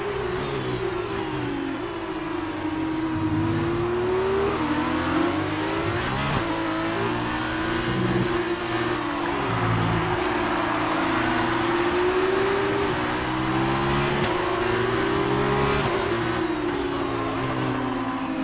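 Formula 1 car engine in the F1 2019 video game, revving loud and continuous with rising and falling pitch through gear changes and corners, alone without talk.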